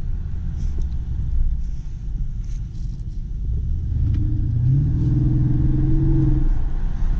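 A car engine hums and rumbles from inside the cabin while driving, a steady low drone that swells as the engine pulls harder and the tone rises toward the end.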